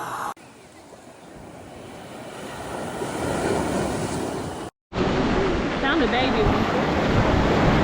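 Sea waves wash onto a beach where people search for ancient shark teeth, a loud continuous surf roar with wind buffeting the microphone and one brief cut in the middle.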